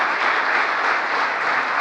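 Audience applause during a speech by President Biden marking the anniversary of the Inflation Reduction Act, a dense, even wash of clapping from a large crowd that holds steady and loud for about two seconds with no talk over it.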